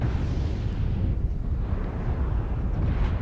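Airstrike explosions in the mech combat game Mechwarrior Online roll as a continuous, heavy low rumble with a dense, churning blast texture, loud and sustained throughout with no clear gaps between impacts.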